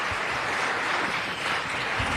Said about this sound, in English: Let's give Councilman Cardenas one more round of applause.